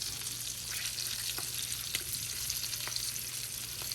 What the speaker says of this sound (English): here goes our prepared potatoes. They should sizzle.